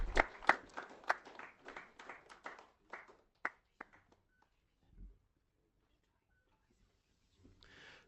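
Applause from an audience at a coffee table book launch in Kenya: a burst of claps that quickly thins to scattered single claps and then silence, with a faint murmur near the end.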